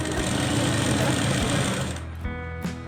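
A sewing machine runs fast and close, stitching along the edge of a plain blouse in a dense continuous whir that slows and stops near the end.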